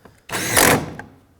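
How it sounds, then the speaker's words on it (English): A power driver spinning in a T30 Torx bolt on an interior door panel of a 2006-2011 Chevrolet HHR, with one short, close whirring burst of about half a second, a faint click before it and a brief tap after. "Let's get the 2 Torx screws in. Start in the 2 T30 Torx bolts."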